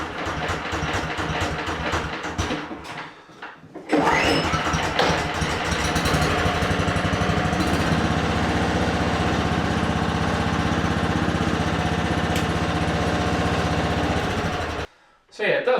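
A child's chain-drive snowmobile engine in a warm garage fires up on full choke after a short stretch of talk, then runs with a loud, buzzy, uneven rattle for about eleven seconds before cutting off abruptly.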